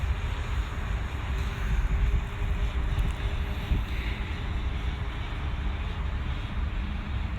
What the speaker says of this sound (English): It's quite windy, so the Mavic's fighting the wind.